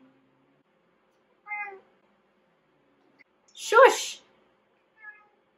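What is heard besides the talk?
cat meowing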